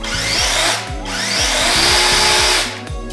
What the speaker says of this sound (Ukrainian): І натискаючи на ось цю кнопку запобіжника і на ось цю кнопку робочу, інструмент у нас починає працювати.